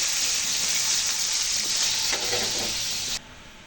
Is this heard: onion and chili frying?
yes